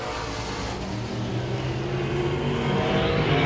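Modified race cars circle the track at Langley Speedway, a dense, loud engine roar that swells steadily as the cars close in, with no voice heard.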